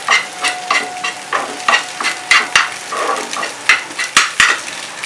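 Egg stir-fried in a pan for chire pulao, a spatula scraping and clacking against the metal in a steady rhythm over a continuous loud sizzle, close and without talk.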